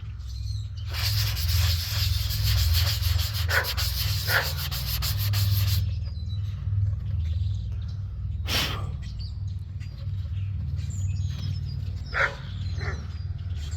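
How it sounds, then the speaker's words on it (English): Sandpaper rubs back and forth over the paint on an Aerotech Sumo model rocket, a close, loud, rapid scratching for several seconds, followed by a few shorter strokes and a soft bird chirp in the background. "Still sanding pretty good."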